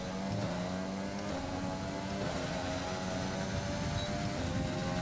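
Formula 1 car engine in the F1 2020 racing game, a steady high-pitched whine held continuously and loudly throughout, with a gear shift near the start.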